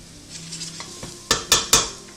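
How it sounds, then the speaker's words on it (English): A utensil stirring olive oil in a hot pan, first soft scraping and light sizzling, then three sharp metallic clanks against the pan in quick succession, close and loud. "Move that around for a hot second. We're just flavoring that olive oil that we put in there."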